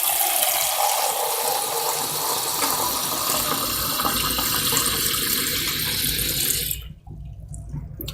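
Water pouring steadily into a container in a kitchen, a continuous splashing gush close by that cuts off abruptly near the end, leaving quiet room tone.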